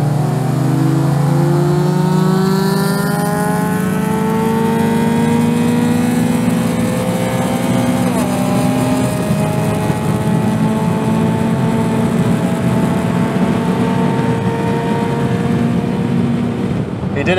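A modified Honda Accord Euro engine pulling hard through the gears in a drag race, a loud, continuous rising drone heard from inside the car with one shift partway through, engine noise dominant throughout.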